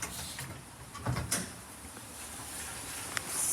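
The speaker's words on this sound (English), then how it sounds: "Doors closing." Lift doors in a shopping centre slide shut, with a couple of soft mechanical thumps and a low whirr against faint background hum.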